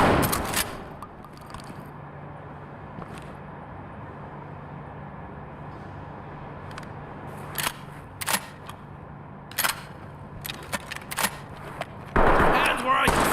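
Sharp gunshots in a video game, a few isolated cracks followed by a quick cluster of shots, over a quiet hum with talk at times.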